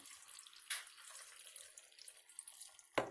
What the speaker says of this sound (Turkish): Evet şimdi Suyumuzu içine ilave ediyorum. Şöyle tuzlu suyumuzu.